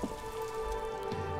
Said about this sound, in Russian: Великий город Ревашоль мокнет под дождем